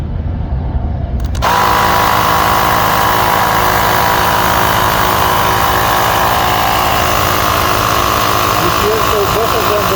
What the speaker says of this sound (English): Now we should turn them on simultaneously, and once both of those will reach to 40 psi, they will stop.